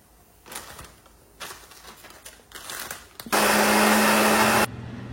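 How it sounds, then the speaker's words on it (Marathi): A kitchen mixer grinder grinds coconut for a sweet festival filling, starting abruptly with a loud, steady whirring burst of just over a second, then cutting off, after quieter kitchen clatter and handling. "ह्याच्यात मला काहीतरी मिक्सरला वगैरे लावून घेऊन हे बारीक करावं लागणार"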